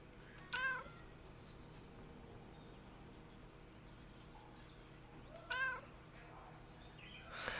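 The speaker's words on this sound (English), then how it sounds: "It's a greeting meow." Two clear meows from a cat in the video game Kentucky Route Zero, separated by several seconds of quiet ambient hum, each a short rising-falling call, close and distinct.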